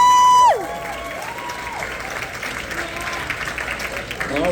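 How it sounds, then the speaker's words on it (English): An audience at a Halloween Horror Nights panel at the Spooky Empire convention applauds and cheers after a short burst of electronic music tones, with the sustained clapping filling the room and a voice briefly heard over it. "Big round of applause for everybody."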